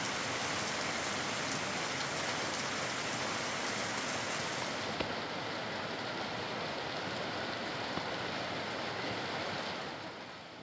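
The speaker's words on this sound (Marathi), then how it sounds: "दरम्यान पर्यटन नगरी लोणावळ्यात पावसाने हजेरी लावली" Steady heavy rain falling in the hill town of Lonavala, a dense continuous hiss that holds evenly throughout with no voices.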